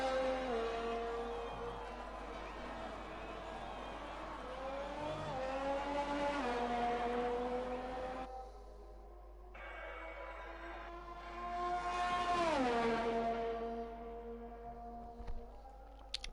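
Race car engines in a racing game, revving hard through gear changes with rising and falling pitch, a sharp drop and pause mid-lap, then another car surging past loud and close.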